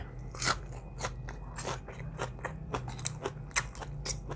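Someone eats khanom jeen rice noodles in a spicy jungle-style curry with fresh raw vegetables, producing close, irregular crunchy bites and chewing with small crackles and scrapes, no talking.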